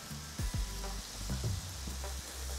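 Continuous sizzling of patties frying in a pan, with a few metallic taps and scrapes breaking through the steady hiss.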